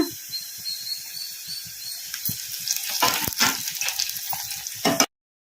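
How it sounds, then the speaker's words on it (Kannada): Curry leaves dropped into dried red chilies frying in oil for a gongura dal tempering give a steady close hiss with bursts of crackling that swell toward the end, then stop abruptly. "ಒಣಮೆಣಸಿನ್ಕಾಯಿ ಕೂಡ ಒಂದು ಸ್ವಲ್ಪ ಫ್ರೈ ಆಗಿದಾವಲ್ಲ ಈಗ ಇದಕ್ಕೆ ಕರಿಬೇವು ಹಾಕೋಣ"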